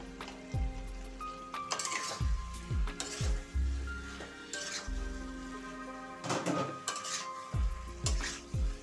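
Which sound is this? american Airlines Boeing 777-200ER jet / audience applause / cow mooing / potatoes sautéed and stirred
potatoes sautéed and stirred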